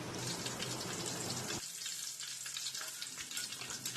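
Onion, bay leaves, cinnamon, cloves and star anise sautéing in a pan for chicken dum biryani, giving a steady close sizzle that drops abruptly to a quieter frying hiss partway through.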